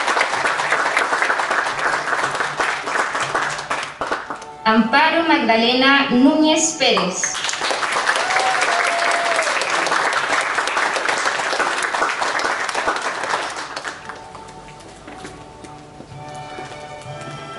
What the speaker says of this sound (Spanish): Aplausos ahí